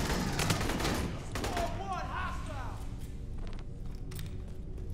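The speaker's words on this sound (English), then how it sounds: "All I hear is pulse rifle sounds." Pulse rifles fire in rapid bursts during a co-op firefight in Aliens: Colonial Marines, a clattering automatic chatter up close, joined by thumps, chirping electronic sounds and a voice talking.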